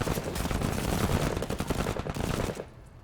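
Rapid gunfire in the tactical game MENACE: a dense, fairly loud run of cracking shots rattles continuously, then stops abruptly near the end and leaves a quiet tail.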